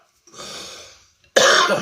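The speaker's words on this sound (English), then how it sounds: "cough sometimes, I'm sorry" A soft breathy exhale followed by a sudden, sharp cough, close and loud, with no talking.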